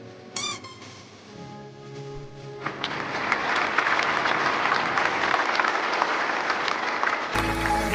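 Wedding guests at an Indonesian wedding ceremony break into sustained, dense applause that swells and holds for several seconds, preceded by faint music and murmuring.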